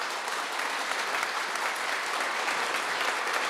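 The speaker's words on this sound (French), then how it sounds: "Une bonne main d'applaudissement à Benoît Gravel." Audience applause at a ceremony honouring coach Benoît Gravel with the Ordre du mérite Georgien, a steady, dense wash of many hands clapping from a full room, sustained evenly throughout with no voices over it.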